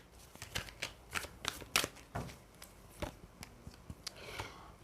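Tarot cards are shuffled by hand in a quiet room, a run of sharp riffling and slapping bursts in an uneven rhythm, close and without talk.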